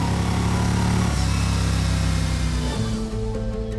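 A 2018 Yamaha Star Venture motorcycle with an air-cooled V-twin engine idles and revs loudly and close, a steady deep throbbing rumble that dips briefly and settles back into a lower, even idle.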